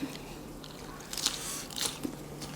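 Someone takes crunchy bites of spicy Thai papaya salad with fresh vegetables, a few close, quiet crunches and wet chewing sounds.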